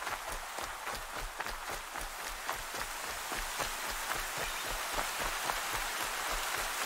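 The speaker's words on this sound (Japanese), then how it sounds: "あ、雨だ。" Rain falls in the video game Horizon Zero Dawn, a dense, even hiss of drops spread across the whole stretch, with faint rhythmic footsteps running underneath.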